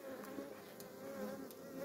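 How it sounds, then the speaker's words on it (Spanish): Wild bees swarm during a hive rescue from a brood chamber sealed with propolis, a close, continuous buzzing hum that holds steady and fills the whole moment without any speech. "Hoy nos encontramos acá rescatando un enjambre."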